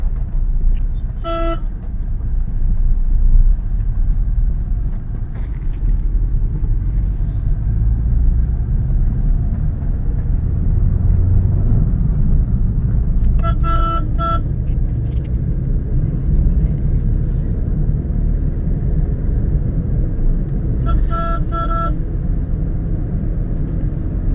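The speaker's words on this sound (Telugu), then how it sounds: "ఫోర్త్ గేర్లో ఉన్నాం మనము సిక్స్టీ ప్లస్ స్పీడ్ అయితే రీచ్ అయింది" A Hyundai i10 cruising in fourth gear at over sixty on a road gives a steady, loud engine and road rumble throughout, with brief horn toots from nearby traffic breaking in a few times.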